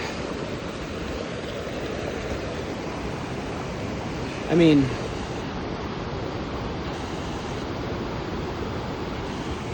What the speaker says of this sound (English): got that little waterfall right here, which is kind of cool